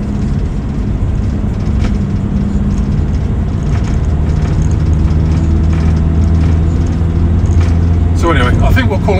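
A Volkswagen T5 camper van's engine idles steadily at close range, a constant low rumble with a faint whine on top, and a voice briefly comes in near the end.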